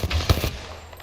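Gunfire in a first-person shooter video game, a quick burst of several sharp shots in the first half second, then fading off into quiet.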